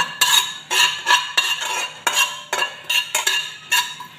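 A spatula scraping and clinking around a dry pan while fennel seeds toast, with steady repeated strokes close by and no voices.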